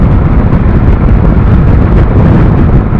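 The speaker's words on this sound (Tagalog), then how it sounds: "lakas ng hangin. Katakot." Strong wind roars steadily and loudly into the microphone while a Dominar 400 motorcycle crosses a bridge, a constant dense rumble with no talking.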